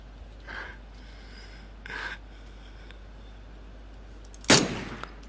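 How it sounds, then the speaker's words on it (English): A weapon reload sound loops in PUBG as a few soft rasping mechanical rubs, then a sharper, louder metallic clack near the end. The sounds are close over a low steady hum. "All I can hear is the reload loop."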